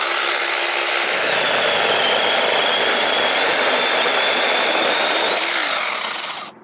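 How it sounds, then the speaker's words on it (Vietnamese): A Makita handheld chainsaw cutting through a tree log about 7-8 cm thick, a loud, steady high-revving buzz that holds throughout and drops off at the very end as the cut finishes. "Mình sẽ test thử cưa cái khúc cây này, đường kính của nó khoảng 7-8cm gì đó"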